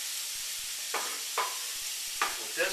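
Jalapeno and garlic stir fry in a hot pan, a steady background hiss of sizzling oil broken by four short scraping stirs, heard close with no talking.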